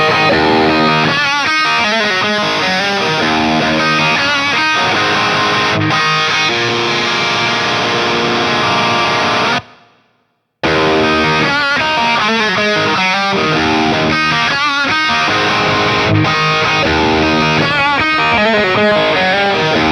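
Distorted electric guitar played through an Ampbox Spark amp simulator and captured on a Shure 57 microphone, with a loud, dense riffing passage that breaks off for a moment of silence, then resumes.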